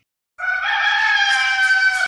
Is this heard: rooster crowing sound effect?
yes